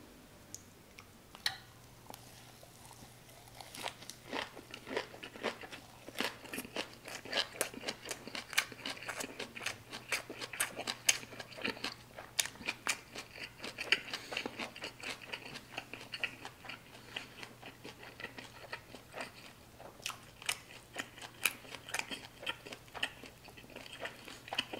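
Close, crisp crunching bites and chewing of a beef lettuce wrap with cucumber, heard as repeated irregular crackles over a low steady hum, with no talk.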